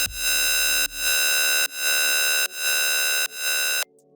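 A synthesized tearout sustain bass shaped with EQ and OTT compression: a bright, buzzy held tone restruck about five times in an even rhythm, each note swelling up, loud and alone, with no talking.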